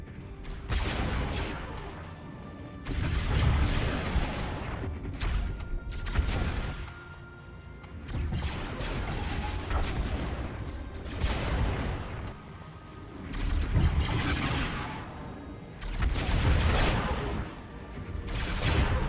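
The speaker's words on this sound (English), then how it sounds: "It looks like our missiles are actually doing some damage here." Missiles slamming into ships during a Stellaris space battle: repeated heavy booming impacts and crackling bursts in waves, loud and dense, with brief lulls between volleys and no talking.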